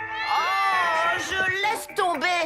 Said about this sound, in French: c'est aussi le chat le plus bruyant